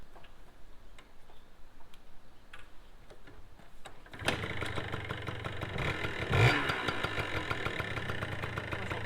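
Yamaha AG100 motorcycle engine running with its muffler fitted after an engine and gearbox overhaul: a quiet ticking idle at first, then a fuller steady engine note with a brief rev midway.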